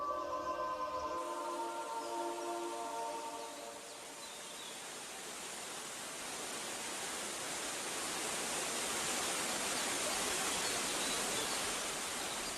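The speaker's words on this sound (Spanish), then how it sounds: "se llega a la cascada de Triberg, la más alta de Alemania" Triberg waterfall on the Gutach river in Germany's Black Forest gives a continuous broad rush of falling water, steady and enveloping, as soft music fades out in the opening seconds.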